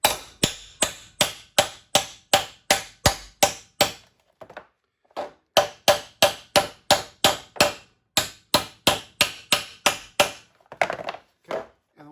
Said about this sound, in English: get a big hammer, BFH. You're going to turn it so the thin part's up, and you go ahead and start pounding that into shape